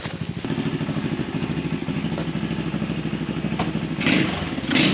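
X Pro Storm 150 DLX ultra-light dual-sport pit bike engine running during a ride, a steady close buzzing thrum with pulsing firing rhythm and a brief rev surge near the end.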